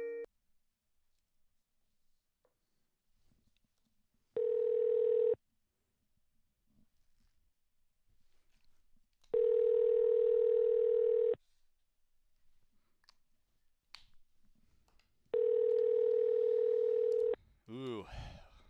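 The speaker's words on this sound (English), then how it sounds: "Anna, how many rings should I go through?" Outgoing telephone call ringing back, three long steady ring tones at even intervals across the span, with quiet background noise between them and faint low voices.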